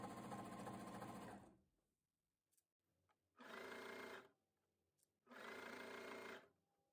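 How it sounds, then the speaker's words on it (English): A cover stitch sewing machine hems the bottom edge of a garment in three loud bursts of rapid, buzzing stitching separated by short quiet pauses. "I'm just stitching around the bottom of the entire garment."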